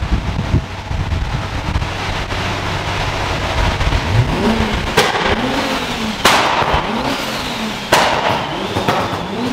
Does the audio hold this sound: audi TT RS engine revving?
yes